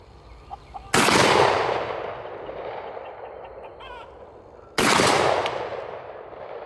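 Two loud shotgun blasts fired outdoors from Browning and Beretta semi-auto shotguns with modified chokes and 3.5-inch shells, each a sharp report with a long rolling echo, spaced about four seconds apart.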